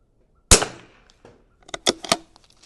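A Vudoo V22S .22LR rifle fires at a 100-yard range: one sharp, loud shot with a decaying tail, then a cluster of quieter cracks and clicks from further shots or bolt handling.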